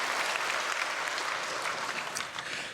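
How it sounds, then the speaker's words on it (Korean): A church congregation at a Sunday worship service applauds to welcome newly registered members, a sustained broad round of clapping that fills the room and fades slightly toward the end, with a voice faintly under it. "크게 박수로 환영하겠습니다."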